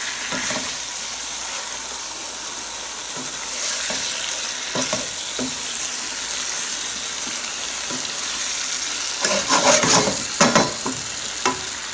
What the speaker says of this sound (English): I'll increase the heat to about medium and then add the onions that we boiled